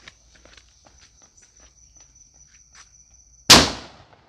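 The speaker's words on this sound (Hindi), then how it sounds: "पहले हम लेंगे ये पिंक वाला बॉल टाइप का बम, तो चलिए इसको लेते हैं और फिर देखते हैं कैसे चलता है ये वाला पटाखा" A pink ball-type Diwali firecracker bomb bursts in one sharp, loud bang that decays quickly, after a few seconds of quiet outdoor ambience with soft footsteps, insect chirps and a thin steady whine.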